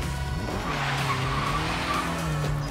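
Car drifting in Forza Horizon 3 on a Logitech G920 wheel, a loud continuous tire squeal wailing over a steady engine roar, sustained without a break and with no talk.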